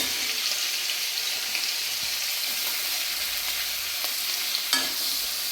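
Chopped capsicum and onion frying in hot ghee, a dense steady sizzle and crackle close up, with a faint stirring scrape near the end and no talk.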